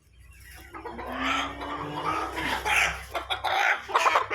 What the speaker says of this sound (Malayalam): റെഡ് ബ്രൗൺ വൈറ്റ് മിക്സ് വരുന്ന ഒരു കോഴിയാണ്.